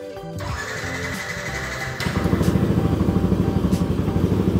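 Custom Honda Ruckus scooter with fuel injection starts up: a short starter whir, then from about two seconds a steady, close idle with a soft rhythmic low putter and no voices.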